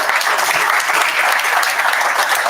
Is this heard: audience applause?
yes